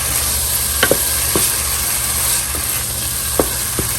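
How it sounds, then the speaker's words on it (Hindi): Sizzling bhindi masala in a pan as yogurt is stirred in, a steady frying hiss with a few soft spoon scrapes and clicks spaced through it, close and alone with no voices. "अब हम दही को भी इसमें अच्छे से डाल के करेंगे मिक्स"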